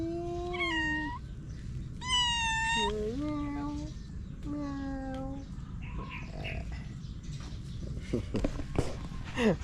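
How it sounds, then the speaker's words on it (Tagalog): A cat meows repeatedly, several clear, rising and falling calls close by in the first few seconds, followed by rustling and a person talking. "Pusa oh."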